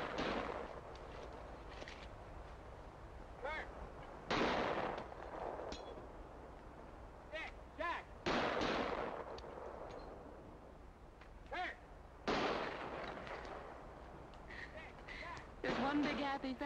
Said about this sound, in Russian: Практикуются в стрельбе.